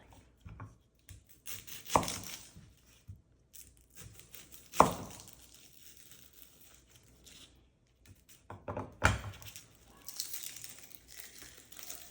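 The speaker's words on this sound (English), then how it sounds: "we're chopping up the onion and the garlic" Knife chopping onion and garlic on a cutting board in a home kitchen while making chicken enchiladas, giving a few sparse, irregular chops and crinkly rustles at close range, with quiet gaps between strokes.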